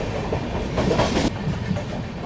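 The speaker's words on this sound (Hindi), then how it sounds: "बाकी कल्याण जंक्शन पर अपनी सेवाग्राम एक्सप्रेस का यहाँ पे अराइवल हो रहा है अभी।" Sewagram Express train rumbling into Kalyan Junction, a steady close roar of rolling wagons with faint rhythmic wheel clatter.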